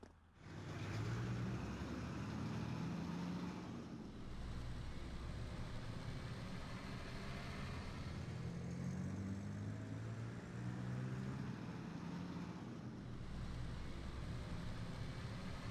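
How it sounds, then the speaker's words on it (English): Armored cars rolling over rough, uneven ground in Trails of Cold Steel, heard as a continuous low engine rumble and rattling drone at steady loudness with slight surges, no voices. "The cars shook and rattled over the uneven ground,"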